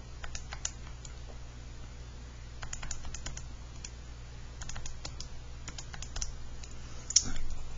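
Light typing on a computer keyboard, scattered clusters of soft clicks over a steady low background hum, fairly faint and without speech.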